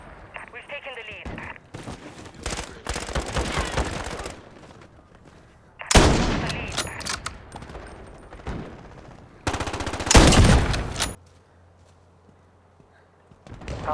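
Rapid bursts of automatic gunfire from a Call of Duty Modern Warfare match, loud clustered volleys separated by quieter gaps, with a player's voice talking between and over the shots.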